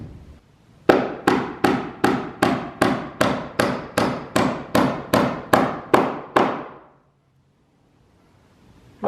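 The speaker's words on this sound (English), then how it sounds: "Lots of hammering going on." Fifteen sharp, evenly spaced hammer blows strike wood blocking during an attic floor repair, loud and close at a brisk steady rhythm, then stop, leaving a quiet room.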